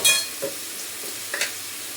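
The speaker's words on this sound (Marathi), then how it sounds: "कोथिंबीर अशी वरतून टाकली तर ते पण छान परतून जाते" Coriander sautéing in hot oil in a pan, a soft steady sizzle with a couple of brief scraping stirs of a spoon, close and alone.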